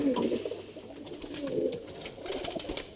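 Pigeons cooing close by, soft low throaty calls repeating over a background of light rustling and faint distant chatter.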